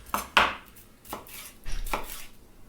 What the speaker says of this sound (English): So you're just going to kind of slice these.